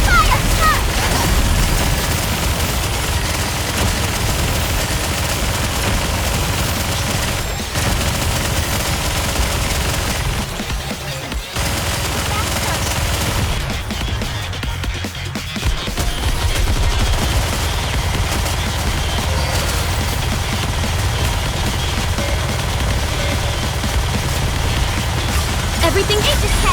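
Rapid video game gunfire with cannon fire, sustained and loud throughout, with a brief dip near the middle, while voices talk over the battle.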